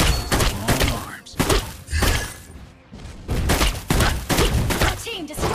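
A turret being destroyed in the Mobile Legends video game, with dense bursts of crashing, shattering impacts and booming thuds in quick succession, loud and close over a busy game soundscape, with a brief lull midway.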